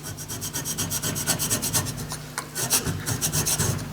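A metal file is scraped clean with a piece of copper in a machine shop, giving a close, rhythmic rasping of quick repeated strokes with no talking.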